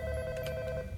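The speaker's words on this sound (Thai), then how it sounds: "โทรศัพท์มาก็ต้องปิดนะทุกคนนะ" A Roblox video game telephone rings faintly as a short electronic trill of repeated tones, heard alone without talk.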